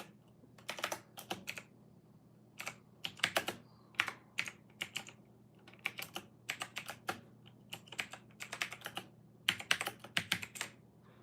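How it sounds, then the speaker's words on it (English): Someone types one-handed on a computer keyboard, a close, uneven run of crisp key clicks in short bursts with brief pauses and no voices. "I hate typing with one hand."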